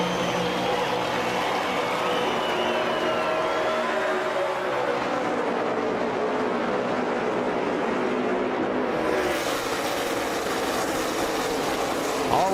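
NASCAR stock cars taking the green flag at the 2009 Pepsi 500 in Southern California, a dense continuous engine roar from the pack filling the whole stretch.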